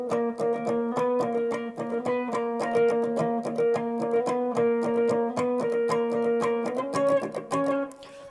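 An electric guitar plays the chorus lead part of the IBC version of Nadie Como Tu, a clear, picked melodic line of steady repeated notes with slight effects, loud and close, with no voice.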